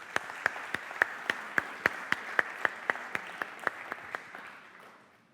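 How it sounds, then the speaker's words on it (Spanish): Steady rhythmic clapping from a lecture audience, about fifteen sharp beats in even tempo, growing softer and fading out near the end. "Este aplauso para todos vosotros."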